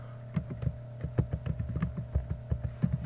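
Java code being typed on a computer keyboard, a quick run of close, crisp key clicks in an uneven rhythm over a low steady hum.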